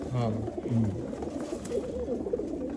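Pigeons cooing at a pigeon sale, several soft rolling coos close by in the first second, followed by ongoing talk among sellers and buyers.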